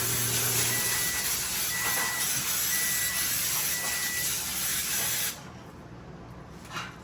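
Cooking spray hisses in one long continuous burst close by while greasing a pan for pumpkin dump cake, then stops abruptly, leaving a quiet room with a faint clink.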